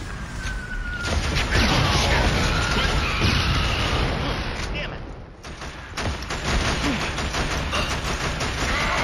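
Dense, sustained gunfire and blasts fill a Killzone battle, with rapid bursts, booms and crashes layered over each other almost continuously, and shouting voices under the din.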